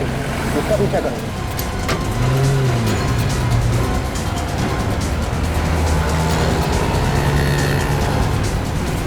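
A car chase with engines revving and tires squealing runs steadily throughout, loud and close, in a Hindi crime drama, with voices and a dramatic score layered over it.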